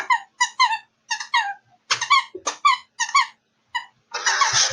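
A squeaky dog toy is squeezed again and again, giving loud, close, high-pitched squeaks in quick bursts of two or three with short pauses between them, followed by a brief rustling noise at the end.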